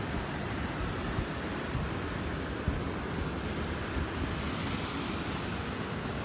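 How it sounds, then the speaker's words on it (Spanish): Rushing water pours steadily in a dense, broad roar at the full Algar del Palancia dam, constant and fairly loud with no voices, like a heavy flow spilling over. "el sonido del agua"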